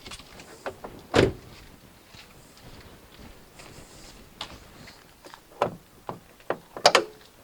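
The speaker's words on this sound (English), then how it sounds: "open the passenger door or driver's door if you're left-hand drive. Pull this little flap." A Fiat Panda's door is opened and the bonnet release flap inside is pulled, giving a solid clunk early on and then a run of sharp plastic clicks and knocks near the end, close up against a quiet background.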